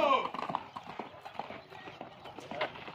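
Horses' hooves clip-clop in a quick, uneven patter during an informal horse race among family and friends, with excited voices talking over the hoofbeats throughout.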